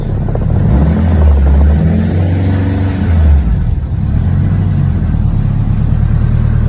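A car engine runs warmed up at operating temperature, a loud, close, steady low rumble with a swell in revs partway through, and no talking.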